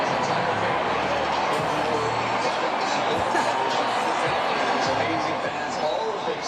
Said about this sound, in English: Can we listen in and listen to some of the crowd for a second?